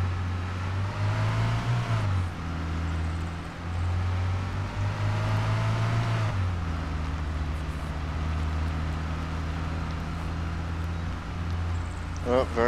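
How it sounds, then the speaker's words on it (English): A vehicle engine in the game Arma, a loud droning motor that revs and shifts pitch a few times as it pulls away, with someone talking over it. "Oh, vehicle left."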